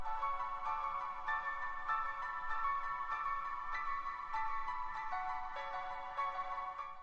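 Pianosphere, a lo-fi piano sound, plays a gentle sequence of soft chiming, bell-toned notes in a steady rhythm with a shimmering sustained wash. It is quiet and continuous, with no voices.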